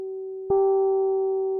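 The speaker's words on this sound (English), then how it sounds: "You can kind of hear more of like a sort of a pitch distortion happening there. Not a pure sine wave anymore." A steady, loud sine wave tone that jumps midway into a harsher, slightly distorted version with added overtones and pitch distortion, holding on without pause.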